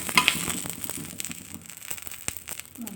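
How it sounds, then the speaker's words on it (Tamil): Curry leaves sautéing in oil in a pan for a potato fry, a soft continuous crackling sizzle with a few light clicks, fairly quiet and close. "இப்போ கொஞ்சம் அதே இதில் வந்து நம்ம கருவேப்பிலை கொஞ்சம் வதக்கி"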